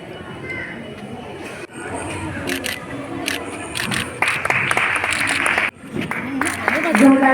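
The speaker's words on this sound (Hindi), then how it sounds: "जोरदार तालियों से मुख्य अतिथि महोदया का अभिनंदन करते हैं हम सभी।" A crowd breaks into applause welcoming the chief guest at an event in Varanasi, India, steady clapping that swells and continues with some cheering, voices mixed in the background.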